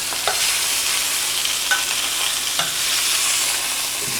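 Lamb shanks sear in a hot pan with a loud, even hiss of frying fat, broken by a few soft pops and scrapes; no voices.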